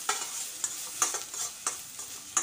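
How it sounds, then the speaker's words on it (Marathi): Green chilies and ginger paste fry in butter in a pan with a steady close sizzle, and a spoon scrapes and stirs at intervals. No one speaks. "2 हिरव्या मिरच्या आणि अद्रकाची पेस्ट जी आहे बटरमध्ये छान अशी फ्राय करून घ्यायची"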